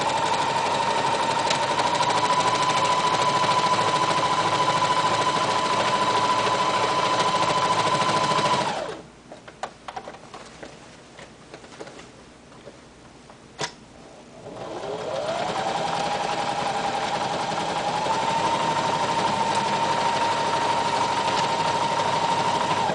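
A sewing machine zigzag-stitches over the raw edges of a denim patch on jeans, running in a loud, steady whirring burst, pausing for several seconds with faint clicks, then starting up again and running steadily to the end.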